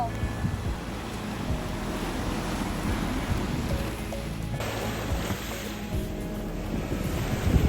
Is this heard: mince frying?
no